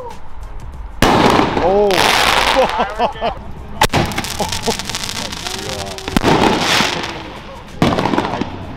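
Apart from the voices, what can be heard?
Toyota Supra exhaust popping and shooting flames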